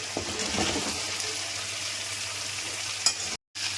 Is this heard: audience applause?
no